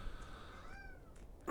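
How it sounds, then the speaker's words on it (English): A cat in the puzzle video game Blue Prince gives one short, rising meow at close range against quiet room tone. "Yes, cat, I hear you."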